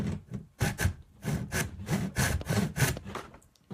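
Wood held in a table vise is cut with a hand saw in a steady series of rasping back-and-forth strokes, about a dozen close, loud strokes with no voices.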